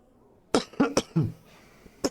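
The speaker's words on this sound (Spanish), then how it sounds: "Y de ahí la tos, ¿vale?" A person with a cold coughs three or four times in quick succession, close and fairly loud, with a throat-clearing rasp, followed by a pause and one more brief cough.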